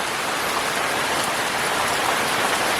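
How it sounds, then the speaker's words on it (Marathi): Heavy monsoon rain in rural Konkan pours down in a steady, dense roar, loud and continuous, with no voices over it. "एकदम मोठा पाऊस लागल्यामुळे कसं एकदम एकदम असं पांढरा पांढरा झालेलं आहे"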